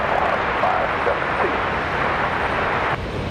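United airliner departing Raleigh Durham airport, a broad, steady jet roar heard from a distance, loud and constant with wind noise and no talk.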